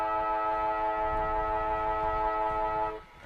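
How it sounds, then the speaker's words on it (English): A steady, loud stadium siren ending a football match holds one buzzing tone for about three seconds, then cuts off abruptly. "And the siren ticks over."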